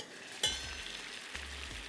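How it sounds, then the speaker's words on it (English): A pot of water at a rolling boil for cooking noodles, with a steady bubbling hiss and low rumble plus a couple of brief clinks nearby. "Water is boiling,"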